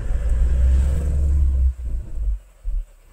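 A vehicle passes on the road with a loud, close low rumble that swells and then drops away, followed by a couple of shorter rumbling bursts.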